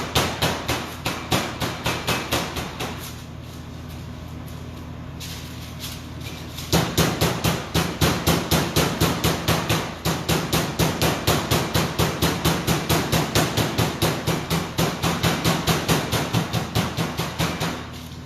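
A trimmed boneless chicken breast is pounded flat with a rapid, even series of loud, close thuds that pause briefly partway through and then resume at the same brisk rhythm.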